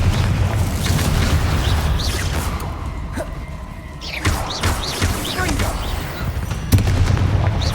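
Spell explosions from the Bombarda and Confringo charms in the Hogwarts Legacy video game: a few deep booms and sharp blasts burst over a dense, rumbling battle soundscape, loud and close.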